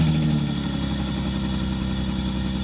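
A car engine idling steadily after five years parked up, a loud, even, close rumble with constant vibration and no talking.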